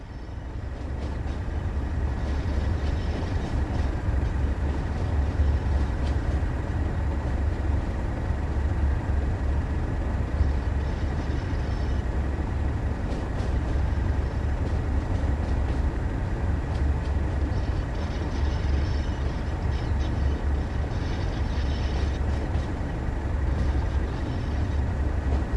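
Diesel train on the Tees Valley Line in Train Sim World 2, a steady low engine drone and rail rumble running continuously at even loudness throughout, with no talk.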